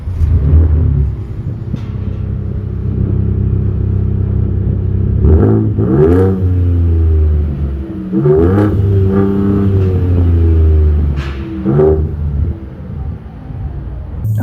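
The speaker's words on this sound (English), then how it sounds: "Let's have a listen to the sound of this glorious V6." The V6 engine of a 2024 Ford Ranger Raptor revs hard and loud close by, a steady deep idle broken by a series of rising, snarling throttle blips spaced a few seconds apart.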